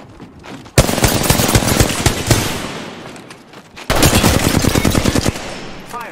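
Loud automatic gunfire in the Apex Legends video game, heard as two long bursts of rapid shots separated by a short pause.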